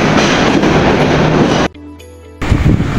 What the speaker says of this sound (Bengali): সকালবেলা একটা ট্রেন যাইতেছে